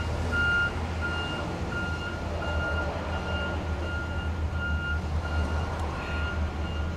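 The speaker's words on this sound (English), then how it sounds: "fucking diesels." Diesel trucks idle and rumble nearby with a low steady engine drone, while a reversing beeper chirps at a regular rhythm over the top.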